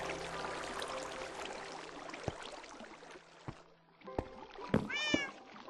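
Pet cat meowing in Minecraft, a short cluster of high, wavering mewing cries near the end, over a quiet ambient bed of water and low background tones with scattered soft clicks.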